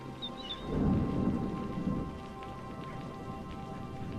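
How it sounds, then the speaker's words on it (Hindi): Steady rain falls throughout, with a low rumble of thunder swelling early on and then fading back into the constant downpour. "तभी बारिश शुरू हो जाती है"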